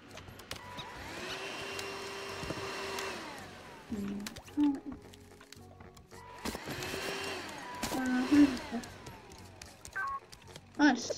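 A Hoover vacuum cleaner runs in a video game with a steady droning whine that rises and falls over several seconds. Game beeps and tones sound over it, and a person talks now and then.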